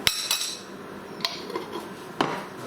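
A metal spoon clinks against a dish while butter ghee is added to tandoori-marinated chicken wings: a few sharp, bright dings spaced apart, close and clear over a quiet room.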